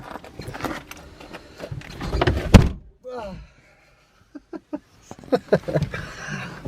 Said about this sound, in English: I'm gonna slam the door